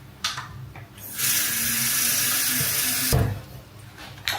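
Tap water gushes into a container for mopping the floor, a steady rushing stream lasting about two seconds between short clattering knocks at the start and end.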